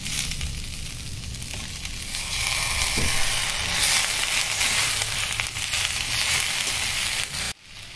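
Onions sauté in a pan for paneer butter masala, giving a steady, bright sizzle and hiss throughout that cuts off abruptly near the end, with no talking.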